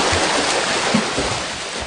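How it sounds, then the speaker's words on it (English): Continuous broadband rush of churning water from 71 triathlon swimmers, loud and steady, with low thumps of splashing bodies mixed into the wash. "142 hands swimming a triathlon."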